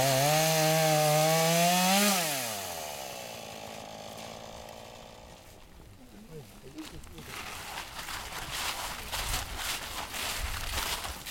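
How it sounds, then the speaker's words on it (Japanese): A chainsaw whines and revs, then cuts noisily through fallen timber with a rough, grinding rasp during a disaster rescue drill; voices talk nearby. "木材をチェーンソーで切って隙間を作って"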